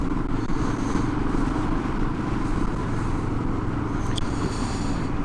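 A Royal Enfield Himalayan motorcycle drones along steadily at cruising speed during a commute, with a low engine rumble and wind noise throughout and a brief faint clink near the end.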